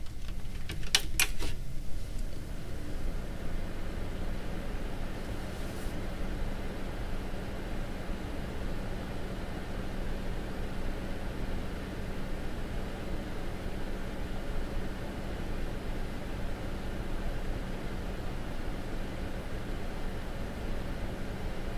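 A Noctua NF-P14 FLX computer case fan runs with a steady, even airy whoosh and a low constant hum that holds unchanged throughout, after a few brief clicks at the start.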